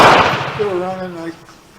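A Remington rolling block 7x57 Uruguayan carbine fires a single ALOX-coated bullet, a loud, sharp close report that decays quickly, followed by a brief voice.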